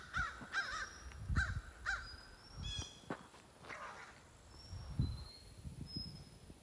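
A crow caws outdoors in a burst of four quick harsh calls, then a couple more scattered cries, fairly distant, with rustling footsteps, other birds and faint insects in the background.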